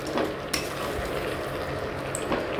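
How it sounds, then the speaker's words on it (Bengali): Chicken cooking in a pan with biryani masala, a steady soft sizzle with stirring and occasional sharp clinks of a utensil against the pan, close and continuous with no talk. "চিকেনটাকে বসিয়ে দিয়েছি, হালকা করে একটু এর মধ্যে বিরিয়ানির মশলা দিলাম"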